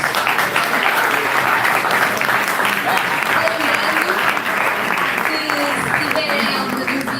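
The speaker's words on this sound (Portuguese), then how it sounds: "Uma salva de palmas mais uma vez" Loud, continuous applause from an audience at a Christian plenary gathering as presenters are called up, a dense wash of clapping running the whole time with some voices mixed in underneath.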